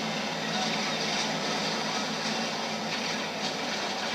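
In Modern Warfare 3, a train rushes past in a dense, steady rumbling roar, loud and continuous for a few seconds with no talking.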